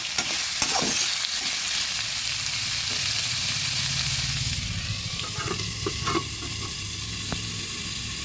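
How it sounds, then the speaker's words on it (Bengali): Vegetables for oats khichuri fry in a pan under a continuous hissing sizzle, with repeated stirring scrapes and a few sharp utensil knocks toward the end. "নেড়ে চেড়ে কিছুক্ষণের জন্য ঢেকে দিচ্ছি"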